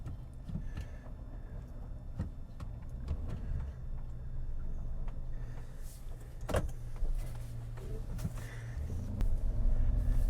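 A car engine idles at about 900 RPM, a low steady hum heard close by, broken by occasional clicks and a brief motorized whir like a power window.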